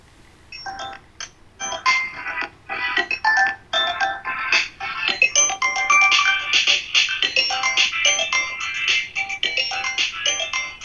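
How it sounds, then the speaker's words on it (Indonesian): A mobile phone ringtone for an incoming call cuts into an online structural mechanics class. Bright, melodic electronic tones repeat steadily for about eleven seconds, fairly loud and close, with no talking over them. "sebentar ada telepon"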